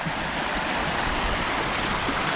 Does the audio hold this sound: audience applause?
no